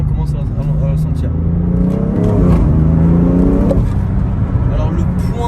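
A BMW M3 Competition engine revs as it accelerates in second gear, a loud, rising growl that climbs in pitch and drops back as the car pulls, with someone talking over it.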